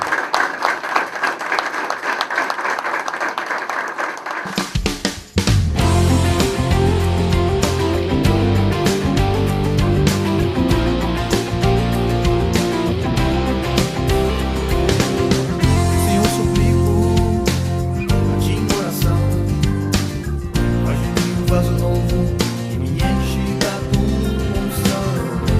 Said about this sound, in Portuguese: vamos dar para ele uma bonita e uma forte salva de palmas